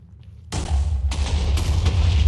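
Minecraft TNT blocks detonating in a loud, sudden blast that rolls into a sustained rumbling roar of several overlapping explosions tearing up the terrain, with no talking.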